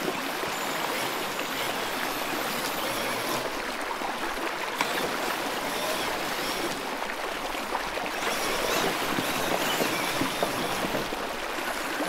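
A stream's current rushes and burbles steadily around a brushless Traxxas Summit RC truck, a continuous close wash of flowing water with no talking.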